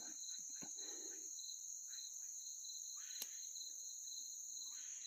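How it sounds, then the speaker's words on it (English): Crickets chirping in the Arkansas woods at night, a faint, steady, high-pitched continuous trill with scattered soft rustles and small knocks nearby. "I still hear crickets and everything"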